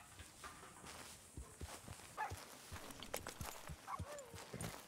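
Steady clip-clop of horse hooves walking at an even pace in Red Dead Redemption 2, moderately close, over a soft ambient background.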